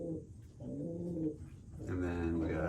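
Racing pigeons coo in their loft, close and moderately loud, with a few low throaty rolling calls in succession over about three seconds, while someone talks over them.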